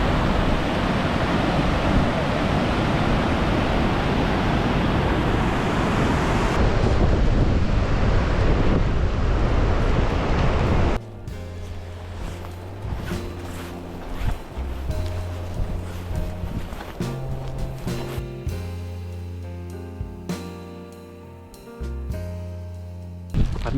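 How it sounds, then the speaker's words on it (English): A river rushes below a bouncy suspension bridge on New Zealand's South Island, heard as a loud, steady broadband roar with wind buffeting the microphone for about eleven seconds, then dropping to faint background under other nearby sounds. "I'm sure you can hear the river as well."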